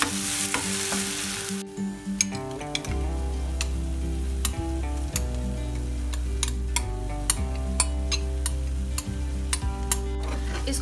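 Cream goes into fried masala in a pan for shahi paneer, giving a steady close sizzle with soft stirring scrapes and faint clicks that carry on throughout without any voices.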